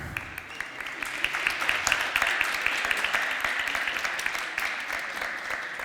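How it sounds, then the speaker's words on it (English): A conference audience applauds steadily, many hands clapping in a dense, even wash that holds for several seconds and tapers slightly toward the end. "So please, big applause."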